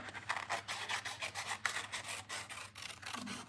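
Paper cloud cutouts are trimmed for card making, giving a steady series of rapid scraping, rasping snips close up, with no talk over them.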